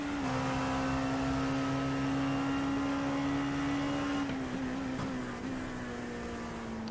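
Onboard engine of a race car in a sim racing series at Mid-Ohio, a loud steady drone held at a near-constant pitch, dipping briefly partway through before settling again, with no talking.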